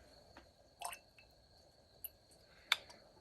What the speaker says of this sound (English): If you add a few drops of water